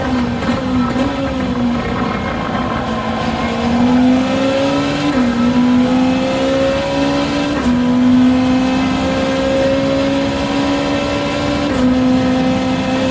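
Group 2 race car engine in the Gran Turismo video game at Sardegna, a loud steady engine drone with pitch rising and dropping through several gear shifts, no talking.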